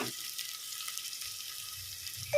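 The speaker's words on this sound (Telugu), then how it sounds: "నూనెలో ఉల్లిగడ్డ మంచిగా వేయాలి ఉల్లిగడ్డ అల్లం ఎల్లిగడ్డ పచ్చి వాసన అంతా పోయిందాక మనం వేపుకోవాలి" Onion, ginger and garlic fry in hot oil with a steady, soft sizzle that holds at an even low level throughout, with no voices over it.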